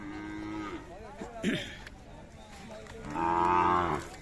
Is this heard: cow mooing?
yes